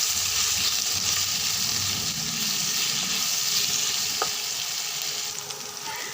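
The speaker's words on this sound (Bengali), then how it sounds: "সাজনা আলু ভাজা হয়ে গেছে" Drumstick pieces and potatoes with salt and turmeric frying in a pan, making a continuous close sizzle with stirring scrapes and occasional clinks, fading slightly toward the end.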